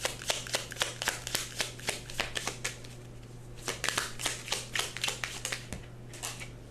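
Tarot cards are shuffled by hand in quick repeated riffling bursts, crisp and close, with a steady low hum underneath and no talking.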